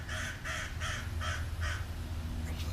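A crow caws outdoors, five evenly spaced harsh calls followed by a softer sixth, fairly clear over a low background rumble with no talking.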